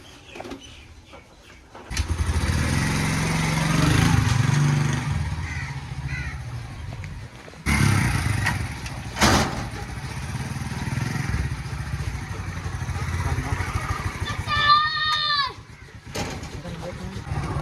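A motorcycle is kick-started and ridden in a village, its engine running steadily close by under people talking, with crows cawing and some clatter around it.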